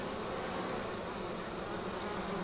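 Bees hum in a steady, dense buzz at a hive's guard entrance, a continuous close drone with no other sounds.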